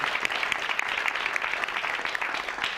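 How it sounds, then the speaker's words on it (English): Audience applause at a community town hall event, a steady dense clapping from a crowd that fills the room continuously, loud and close with no talking over it. "Let's give her a round of applause."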